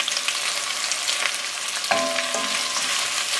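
Peppers, onions and garlic frying over medium-high heat give a steady, even sizzle, with a short tonal hum from about two seconds in, and no voices.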